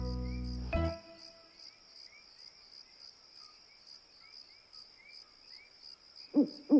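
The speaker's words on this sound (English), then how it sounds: "It's only the crickets, whispered Miffy. They always chirp at night." Crickets chirp in a steady, pulsing high trill through a quiet night scene in a classic animated children's cartoon, after a brief tonal note at the start, with a couple of low owl hoots near the end.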